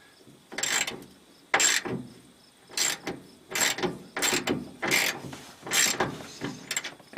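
A ratchet wrench with a 13 mm socket loosens bolts on the trunk deck of an LS 5.3-swapped Firebird, making about eight sharp, close bursts of clicking separated by short pauses.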